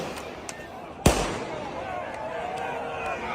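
A large firework bursts with a sharp, loud bang and crackling tail, fired by rioters at a police skirmish line outside the Seattle federal building; faint pops come before it and a murmur of crowd noise follows.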